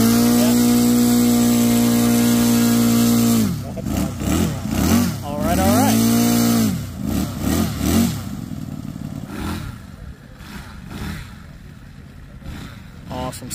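A single-cylinder engine on a 1/6 scale Petrausch Stuka WWII dive bomber RC model plane drones steadily, then revs up and down in sharp bursts and settles to a rougher idle while taxiing, loud and close, with people talking nearby.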